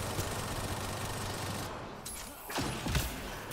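Hurricane SMG fire in the video game Apex, short bursts of rapid automatic shots with mechanical clatter, moderately loud, a couple of sharp bursts near the end.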